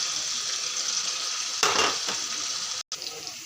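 Spice paste with chopped tomato frying for egg curry, a steady close hiss of oil with a brief burst of louder sizzling and spatula stirring partway through, then a short cut to silence.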